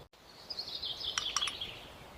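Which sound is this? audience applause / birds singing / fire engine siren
birds singing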